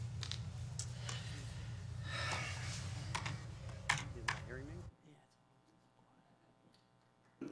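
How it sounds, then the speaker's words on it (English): Keyboard typing from a movie scene, a series of quick clicks over a low hum and background noise for about five seconds, then the sound drops away to near silence. "Just use the keyboard."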